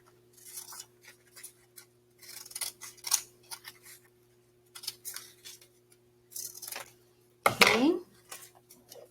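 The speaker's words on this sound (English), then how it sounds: "and you cut out" Scissors snipping through paper to cut out an arrow for a school food chain project, several short crisp cuts in bursts, close by, with a voice speaking between them and a louder rustle of paper near the end.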